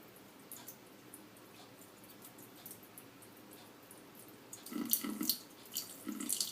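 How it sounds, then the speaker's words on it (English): Running tap water rinses fermented cherry tomato seeds in a sieve, a steady soft stream with louder splashing bursts toward the end as the seeds are worked under the flow. "I'm going to keep rinsing until I get most of that goo out of there."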